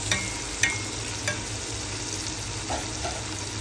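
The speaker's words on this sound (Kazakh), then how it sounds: "Он 15 минутқа помидорымыз әбден қуырылғанша қосып қоямыз" Tomatoes fry in a pan in a low, steady sizzle, with a few light clinks of a utensil near the start and no voices.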